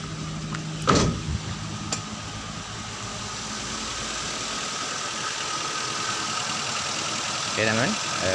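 A Daihatsu Xenia 1.3 engine idles at a steady RPM, a continuous even hum close by, with a couple of brief clicks near the start and no speech.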